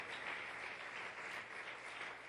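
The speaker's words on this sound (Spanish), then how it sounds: "Dele una ofrenda de palmas al Señor para su gloria y su honra" A church congregation applauds during a Sunday sermon, a soft, continuous wash of clapping heard from a distance, fairly faint and without speech.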